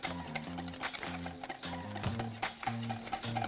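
A whisk beats egg and melted butter into hollandaise sauce over warm water, a steady close rhythmic clatter against the bowl with no talking.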